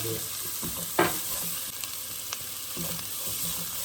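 Ingredients for vada curry sautéing in a pan, with a steady frying sizzle throughout and a few sharp stir clatters, one louder near the start, no talking.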